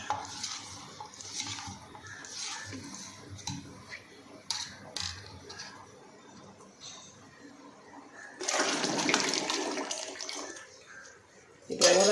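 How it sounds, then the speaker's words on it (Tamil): Spinach flour batter poured into a pot and stirred for a vadam, with scraping spoon-on-metal strokes and a louder sloshing pour midway, close by, with a voice briefly heard. "இப்போ நான் ஊற்றி கிண்ட போகிறேன்"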